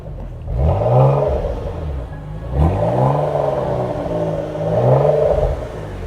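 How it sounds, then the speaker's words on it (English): A Porsche Macan GTS engine revs hard three times, each throaty surge rising then dropping back to a low idle rumble, close by. "Give it a little rev"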